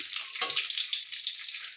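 Raisins sizzling briefly in hot oil or ghee with cloves, cardamom and cinnamon in a pan, a steady bright hiss with a short burst as they hit the fat, no voices.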